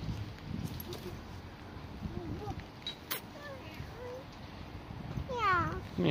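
Faint, scattered cat meows rise and fall against a soft, noisy background, a few short calls spread across the moment.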